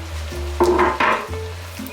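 Onions and bacon sizzling in a pan for homemade chili, a soft steady fry with sharp clinks and scrapes of a utensil stirring against the pan, close by.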